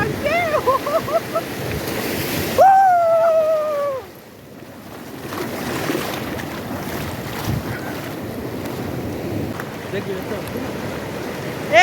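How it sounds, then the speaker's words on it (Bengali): Sea waves break on Puri beach in a loud, continuous wash of surf with wind gusting against the microphone, while voices and a brief high whistling sound rise over it early on. "সুন্দরভাবে ঢেউ নেওয়ার জন্য আমরা এগিয়ে যাচ্ছি"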